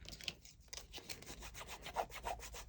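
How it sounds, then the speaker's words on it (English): Emery board rubbed across a card surface in short, quick strokes, a dry scratchy rasping that repeats steadily and close by with no talk. "rub the surface away with an emery board"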